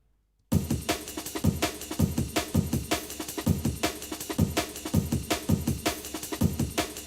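Four drum breaks stacked and played by one MIDI clip in a jungle template, starting after a brief silence into a dense, loud, driving breakbeat with thick layered snares and cymbals, no speech.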